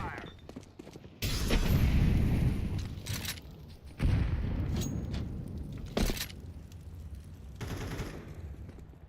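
An incendiary grenade is thrown in Counter-Strike 2, followed by a series of sharp bursts and booming hits over a crackling background, with a voice speaking briefly in between.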